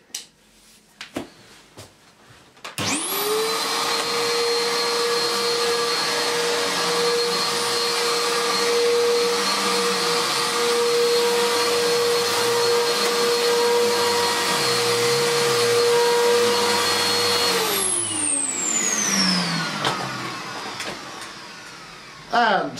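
A vacuum cleaner starts up and runs steadily over dense carpet with a loud motor whine and airflow roar, then winds down. Brief handling noises come before it starts.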